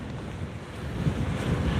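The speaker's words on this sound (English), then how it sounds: "There is a strong headwind." Strong headwind blows by the Rochdale Canal on an e-mountain-bike ride, roaring steadily and buffeting the microphone with a dense low rumble and no voices.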